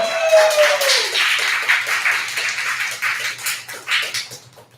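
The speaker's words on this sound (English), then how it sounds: "Applaud the poet." An audience at a poetry slam claps for the poet, a quick fluttering burst of many hands that swells and then thins out, preceded by a brief voice.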